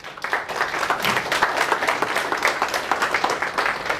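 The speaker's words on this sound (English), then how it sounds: "how about a round of applause for them right now?" An audience at a leadership keynote breaks into loud, sustained applause, many hands clapping densely and evenly for about four seconds with no speech over it.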